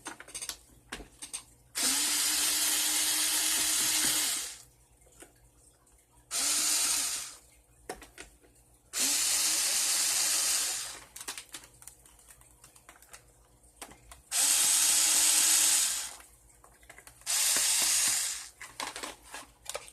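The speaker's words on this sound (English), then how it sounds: "I have my drill here." A power drill whirs in several short bursts, removing Phillips head screws from a Nerf Stampede ECS blaster, separated by quiet pauses filled with faint clicks and handling noises.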